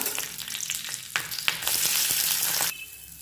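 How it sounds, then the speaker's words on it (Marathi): Green chillies roast in hot oil on a bhakri griddle with a steady sizzle, punctuated by sharp crackles and a louder burst of spitting oil before it settles again. "आता आपण पाहू शकतो की आपल्या मिरच्या ज्या आहेत त्या छान भाजलेल्या आहेत"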